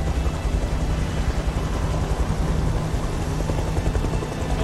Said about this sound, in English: Get that chopper out of here!